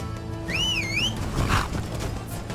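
A rising and falling two-note whistle sounds once, clear and close, summoning a horse in Skyrim Special Edition over low game ambience.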